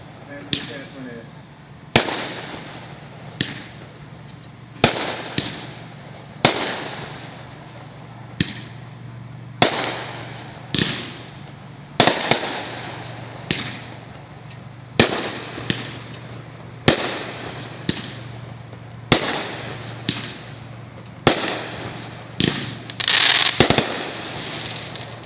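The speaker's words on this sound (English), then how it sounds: "16 shells of fireworks." Chili brand consumer fireworks shells launch in a steady series of sharp, loud thumping bursts, roughly every one to two seconds over twenty-five seconds, each followed by brief crackle, heard from nearby outdoors with people talking faintly between shots.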